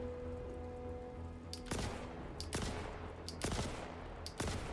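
The Kastak Arms Custodian SMG fires in the video game Star Citizen, letting off several short bursts at irregular intervals over a steady background hum, fairly close and crisp.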